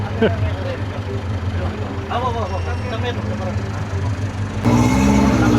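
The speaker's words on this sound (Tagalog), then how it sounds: "Ang ganda ng tunog ng muffler niya" A 4x4 off-road vehicle idles and rumbles through its muffler exhaust at an off-road challenge, with a low steady engine drone under nearby chatter and a louder surge of engine noise near the end.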